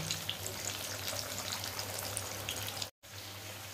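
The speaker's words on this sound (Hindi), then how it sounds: "हमें सिर्फ जिमी कांदा को अच्छे से फ्राई कर लेना है" Elephant foot yam (jimikand) chunks fry in a pan with a steady, dense hiss, close and even, broken by one brief silent gap near the end.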